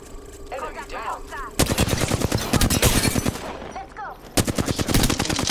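Rapid automatic gunfire in Apex Legends, loud close bursts of repeated shots in two main volleys with brief gaps, over a low game backdrop.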